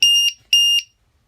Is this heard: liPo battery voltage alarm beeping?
yes